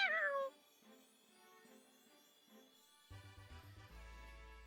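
Torracat's meowing cry from a Pokémon game: a sharp, loud, high meow at the start, then quieter game music with chimes and a low bass tone later.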